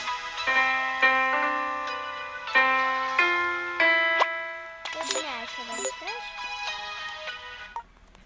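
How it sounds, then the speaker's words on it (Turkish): A birthday melody plays as a phone ringtone inside the PK XD video game, a bright electronic tune of steady repeated notes lasting several seconds, with a warbling passage midway and a clear stop near the end. "Bu doğum günü melodisi arkadaşlar."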